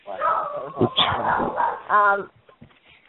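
A household dog barks and whimpers close by in a home, with yips and a drawn-out whine mixed in under a person talking continuously.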